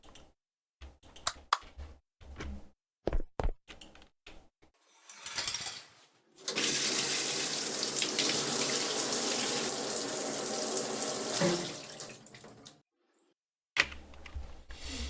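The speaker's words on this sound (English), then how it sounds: "That was a quick shower." A shower runs in the video game Uncanny Valley, a steady rush of water that lasts about six seconds between scattered clicks and knocks, then cuts off cleanly.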